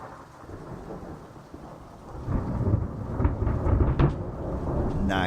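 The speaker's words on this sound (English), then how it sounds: "We might hear some thunder in a moment." Thunder rumbles during a rainstorm, starting faint then swelling into a deep rolling boom midway, with steady rain hiss underneath and no talking.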